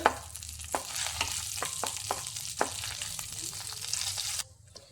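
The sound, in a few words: cashews and chopped almonds frying in a pan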